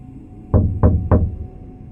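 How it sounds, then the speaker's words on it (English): Three slow, deliberate knocks on a door, evenly spaced and close, each a firm thud standing alone against a quiet background. "Then he lifted his hand and knocked again,"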